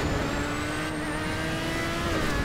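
An F1 Ocelot R88 open-wheel race car in GTA 5 drones with a steady, close engine roar as it boosts, holding a sustained high whine with no talking over it.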